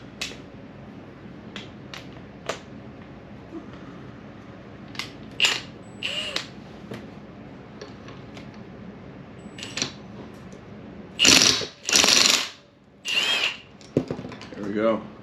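A power tool with a socket spins a nut off a dirt bike engine case during engine removal. After scattered quiet clicks and handling noises, three or four loud, close, buzzing bursts come near the end.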